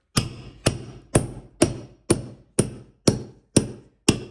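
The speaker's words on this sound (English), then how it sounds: "Every 2 inches, grab the hammer" A hammer tacker drives staples into a carpet stair runner along a 45-degree angle at the quarter round, nine sharp, close impacts landing at a steady half-second rhythm, each strike ringing briefly before the next one, with no talking.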